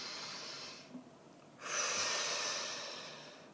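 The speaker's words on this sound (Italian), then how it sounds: "facciamo un bel respiro profondo" A slow, deep breath drawn in and let out during a calm Italian tarot reading, a soft airy rush that swells and then fades, close to the mic with no talk over it.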